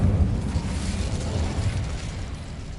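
A fire spell cast in a Hogwarts video game lands as a steady, roaring burst of flame, a broad rumbling whoosh that holds for a few seconds and slowly eases off, with no talk.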